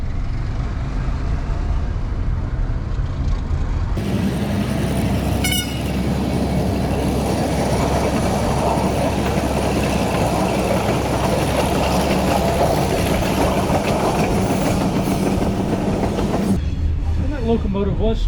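An old working locomotive hauling rock and gravel idles loudly at a station in Albania, a steady engine rumble and a brief horn toot partway through, with continuous clatter close by.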